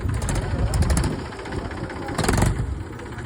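A tractor engine runs close by at a low, rumbling idle, steady with slight knocking pulses and a brief swell in loudness partway through.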